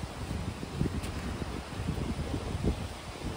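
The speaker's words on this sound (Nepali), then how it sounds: "यहाँ त मजाले हावा चल्यो अहिले" Wind gusts through plants in a field planted with ginger, giving soft, uneven low buffeting and light rustling at a fairly faint level, with no voices.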